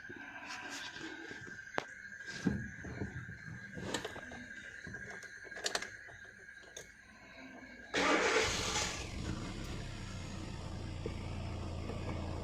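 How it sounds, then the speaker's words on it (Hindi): A Hyundai i20 car with a repaired ECM cranks and starts in a workshop, the engine catching abruptly and settling into a steady, close idle after earlier clattering and tapping. "गाड़ी स्टार्ट करके देखते"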